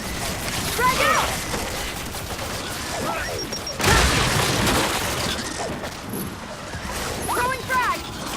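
A frag grenade is thrown and detonates in the Gears 5 campaign, a heavy booming blast amid ongoing gunfire and combat effects, with voices calling out over the action.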